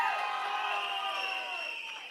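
A crowd at a political rally cheers and whoops, a steady wash of raised voices and shouts held at a moderate distance for a couple of seconds.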